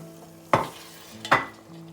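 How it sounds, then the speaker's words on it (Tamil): Hot water poured into a sizzling aubergine (brinjal) curry in a pan, with two sharp splashing bursts of hissing and stirring over a steady low fry. "அங்கே சிறிதளவு சுடுதண்ணீர் விடுவோம்."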